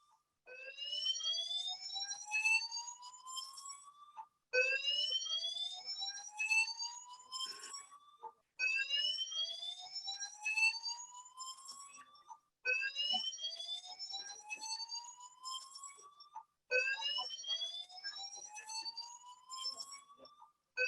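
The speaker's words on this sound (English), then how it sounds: "Looks like a fire alarm." A fire alarm sounds in repeated rising electronic whoops, five long sweeping cycles separated by short gaps, steady and clear with no voices.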